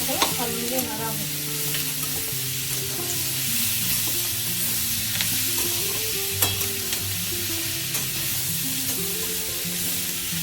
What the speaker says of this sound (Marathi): याच्यात आपण टोमॅटो टाकणार आहोत आणि त्याला छान असं हलवून घेणार आहोत